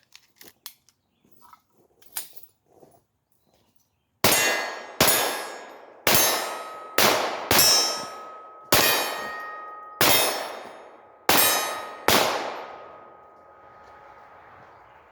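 Semi-automatic pistol firing about nine loud shots in quick irregular succession at a shooting range, each crack followed by a ringing clang from steel targets, after faint movement noise.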